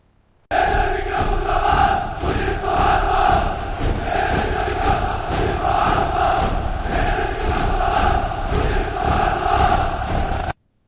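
A large rioting crowd in a city street roars and shouts continuously, a dense, loud wall of many voices that holds steady throughout before cutting off abruptly.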